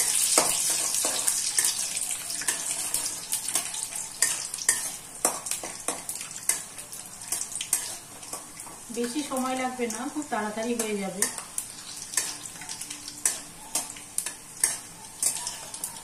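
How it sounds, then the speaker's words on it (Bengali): Peanuts fry lightly in oil in a pan, giving a close, crackling sizzle with intermittent stirring scrapes while someone talks briefly over it. "এই বাদামগুলো একটু ভেজে নেব হালকা করে।"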